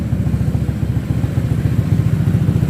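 A Honda Vario 125 scooter engine, bored up to 150 cc with a Vario 150 cylinder, CS1 piston and aftermarket exhaust, idles close by with a steady, rapid, even low thrum.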